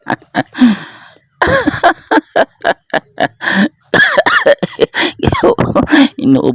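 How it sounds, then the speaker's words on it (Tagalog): A run of sharp, close coughs and throat clearing comes in short bursts, growing into a rougher, more continuous fit toward the end. "Inuubo ako, guys."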